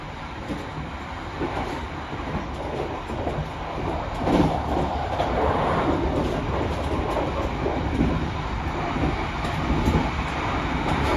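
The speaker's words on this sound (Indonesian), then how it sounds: "Kereta Kahuripan akan melintas langsung di stasiun Minggiran." The Kahuripan passenger train runs straight through Minggiran station without stopping, a loud, continuous rumble and clatter of wheels on rails building slightly as it passes close by, with no voices.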